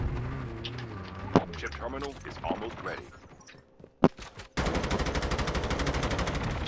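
Call of Duty Mobile battle royale gunfire comes as a couple of sharp shots early on amid game noise, then a sustained loud burst of rapid automatic fire at the end, with someone talking over the first part.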